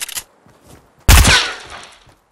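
Gunfire in the video game Fortnite: a few light shots, then one loud close blast that rings out and decays over about a second.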